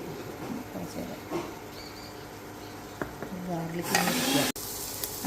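Paneer masala sizzles and fries in a pan, a soft steady hiss with light stirring scrapes that swells into a louder, denser crackle over the last seconds, with a voice faintly present.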